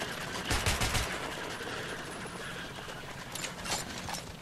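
Rapid gunfire bursts in Metro Last Light, dense crackling volleys at close range with two louder clusters near the start and end, no speech over them.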